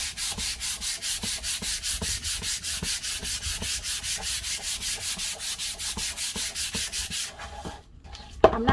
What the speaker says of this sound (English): So this is a 220 grit sandpaper.